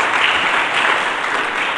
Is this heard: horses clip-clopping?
no